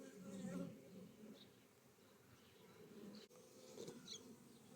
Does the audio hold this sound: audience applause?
no